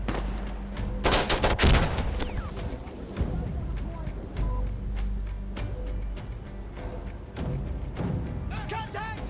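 Gunfire in the video game Insurgency: Sandstorm, with rapid loud shots and bursts up close at the start, then scattered reports and clicks. Several players shout and talk over it throughout.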